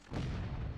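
A single deep boom of artillery fire in the video game War of Rights rumbles up after a brief quiet and lingers for a moment.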